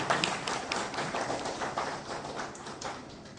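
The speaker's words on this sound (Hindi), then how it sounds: "हम आप सब के लिए जोरदार करताली से स्वागत करते हैं" An audience at a Brahma Kumaris gathering in Ambala City breaks into dense, steady applause, many hands clapping together at close range for a few seconds with no talking.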